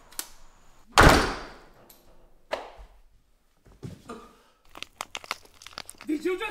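A door is pushed shut and stopped short by a foot, giving a sharp thump followed by scuffing and rustling, with lively voices around it.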